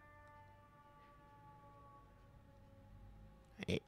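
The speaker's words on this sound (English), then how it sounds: "You hear that siren?" A distant siren wails in a steady sustained tone, faint and far away, ending with a couple of sharp close clatters.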